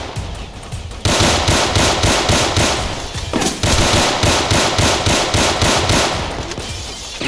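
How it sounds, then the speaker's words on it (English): Loud, rapid bursts of automatic gunfire in a Roblox hood roleplay game as a player at a gate is shot, the rapid shots running almost continuously after a quieter first second, with a short pause midway. "Shoot the dude at the gate."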